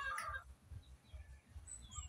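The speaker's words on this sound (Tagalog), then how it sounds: "Diyan po yung aking mga manok." Chickens on a coconut farm: a brief clucking call near the start, then faint, scattered bird sounds over a low outdoor rumble, fairly quiet and without speech.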